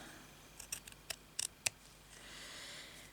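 Small scissors snip sewing thread in a handful of quick, crisp cuts clustered over a second or so, close up and quiet, in a calm room without speech.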